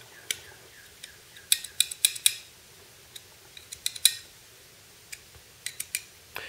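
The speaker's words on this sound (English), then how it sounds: "the blade is actually touching the side of the handle, and you can hear it scraping" Folding knife with a warped blade scraping against the side of its handle, producing a series of small sharp ticks and clicks, irregular and fairly close, with short gaps between them.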